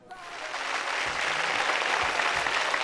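A studio audience on a Telugu television game show claps in a continuous, even wash that swells in at the start and holds steady throughout.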